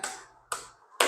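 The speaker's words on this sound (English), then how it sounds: "clap, clap and wave" Three loud, crisp hand claps spaced about half a second apart, performed as part of a children's Follow the Leader dance routine, each with a short reverberant tail.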